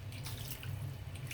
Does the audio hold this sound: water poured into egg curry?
yes